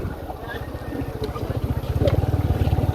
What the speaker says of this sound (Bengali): নৌকা দেখো নৌকা বিল